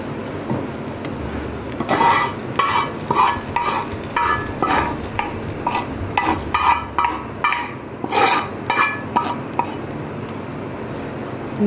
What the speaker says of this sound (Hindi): ये जी हमने तड़का दे दिया।